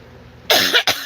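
Two loud, close coughs in quick succession, harsh and breathy, standing out sharply against a quiet background.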